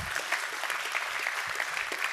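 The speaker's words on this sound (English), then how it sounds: "Okay, well then give Sarah a round of applause" Audience applause at an improv theatre leadership talk, a steady dense wash of many hands clapping together, fairly loud and sustained for the whole stretch with no talking over it.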